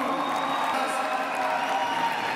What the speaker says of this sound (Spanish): Se merecen un gran aplauso,